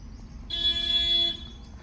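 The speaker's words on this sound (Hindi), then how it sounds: "लॉन्ग हॉर्न प्रेस करो, ब्लाइंड टर्न है" One steady car horn blast lasting under a second, sounded at a blind turn in a narrow street, close and clear over low road and engine rumble.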